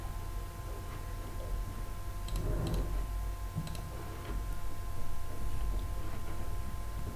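A computer mouse clicks a save button in a Drupal 9 web form, with a few faint, crisp clicks over a low steady room hum.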